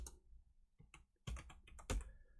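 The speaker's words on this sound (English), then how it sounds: "And it helps if I actually type it correctly." Typing on a computer keyboard, a few close, quiet keystrokes at first, then a quicker run of clacks with a couple of louder key presses near the end.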